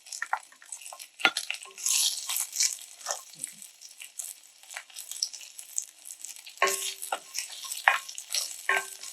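Onions sautéing in a pot for beef goulash give a steady, soft sizzle and crackle, with a few utensil scrapes and clinks against the pot throughout.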